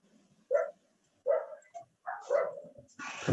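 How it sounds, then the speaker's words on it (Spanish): A small dog barks somewhere off in the distance, four or five separate yaps spaced across a quiet room, the last one running into a brief burst of noise. "es que hay por allá un perrito ladrando"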